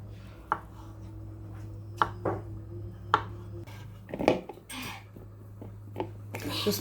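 Raw potatoes being cut into cubes on a board, a series of sharp separate knife thunks at an unhurried pace, close, over a low steady hum, with a little soft handling noise between cuts.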